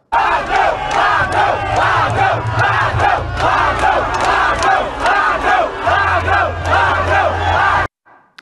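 A large crowd roars and boos continuously at politicians, loud and dense, with rhythmic surges of shouting throughout before cutting off abruptly at the end.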